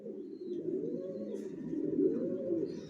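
Racing pigeons coo softly in a multi-storey rooftop loft, overlapping low warbling calls rolling on continuously at close range with no talking.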